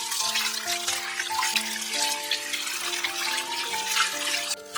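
Beef tripe, shank and tendon rinsed under running water in a kitchen sink, a steady, fairly loud rush and splash with no talking, under a continuous musical tone.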